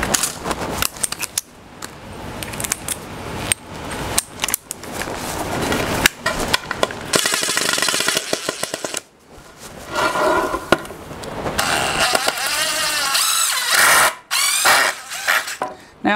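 A power drill spins a screw out of scrap lumber with bursts of whirring motor and grinding against the wood, stopping and starting repeatedly over about sixteen seconds. Heard close and loud.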